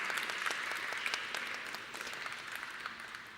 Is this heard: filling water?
no